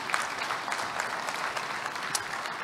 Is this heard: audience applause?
yes